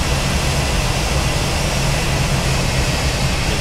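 Steady, loud broadband rumble and whoosh of an Airbus A320 flight simulator cabin as the landing gear extends, with continuous low vibration throughout and no voices.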